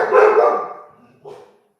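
Dogs barking: one loud, drawn-out bark up close, followed after a pause by a shorter, softer bark, with no talk.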